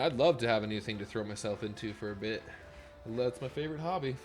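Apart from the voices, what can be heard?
No everyday noise stands out behind the speech.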